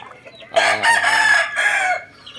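A rooster crows loudly and close by, one long sustained call with clucking chickens around it, from backyard poultry where some birds are suffering in the heat.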